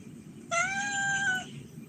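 A cat lets out a single clear, drawn-out meow close by, lasting about a second against quiet background noise.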